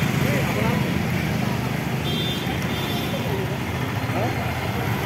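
A truck engine runs steadily as the vehicle edges forward on a Pune street, stuck near a drainage manhole, with a low rumbling drone throughout and people talking close by.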